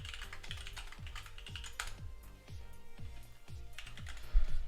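Keys clack on a computer keyboard in quick, regular strokes, close and fairly soft, with a few louder taps near the end and no talking.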